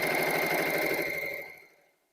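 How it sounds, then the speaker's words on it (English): A sewing machine runs steadily, stitching a quarter-inch seam down the edge of fabric for a wreath sash, its even whirring rattle holding close and level for over a second before winding down to silence, with no talking. "we're just going to come into our 1/4 inch seam allowance and just sew this right on down the edge"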